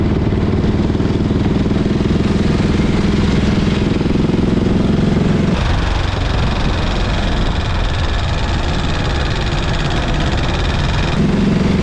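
A 1928 Velocette motorcycle engine idles loudly and close by, a continuous rough mechanical rumble with a slight shift in tone midway, no voices.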